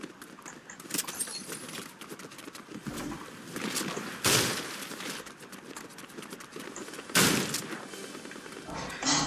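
Several people exchanging gunfire: scattered sharp cracks and bursts, some close and loud, others fainter, firing irregularly throughout.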